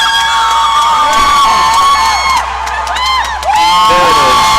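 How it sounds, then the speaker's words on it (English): A crowd cheers and whoops at a jigsaw puzzle pairs final, with loud excited shouting and screaming rising and falling over several seconds while voices call out amid the noise. "They can hear the crowd."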